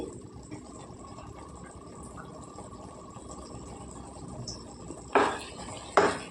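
Coriander is stirred into a prawn and bean curry in a pot. A low, soft bubbling texture runs throughout, then two sharp metallic clinks of the spoon on the pot sound near the end.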